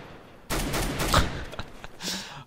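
A burst of loud gunfire in Counter-Strike on de_dust erupts suddenly, a rapid volley of shots followed by scattered fainter pops and an echoing tail.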